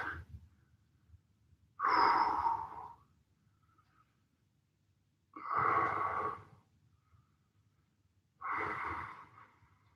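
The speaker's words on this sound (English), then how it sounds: "So big deep breath." Three slow, deep breaths during a home workout recovery session, each a loud breathy exhale lasting about a second, spaced roughly four seconds apart with near silence between them.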